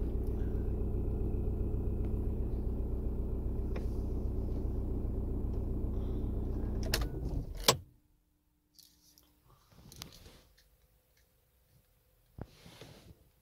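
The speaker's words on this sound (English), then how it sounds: "successfully we can start the car with a new key" A 2004 Skoda Octavia engine running with a steady idle rumble, then cutting off sharply partway through, followed by near silence broken by faint clicks and rattles.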